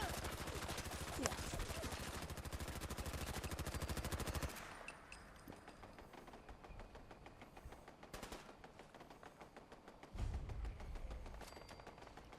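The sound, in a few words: constant gunfire in the video game Fallout 4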